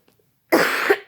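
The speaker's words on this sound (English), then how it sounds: "sorry, I had to clear my throat." A smoker clears their throat once, a short rough harsh burst lasting about half a second, close and loud after near silence.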